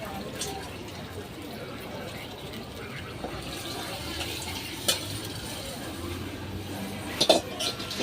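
Water is poured into a pot of chicken curry on a wood-fired stove with a soft gushing fill sound, quiet and close, with a few clinks of utensils near the end.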